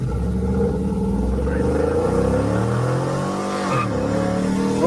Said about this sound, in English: That car sounds like crap.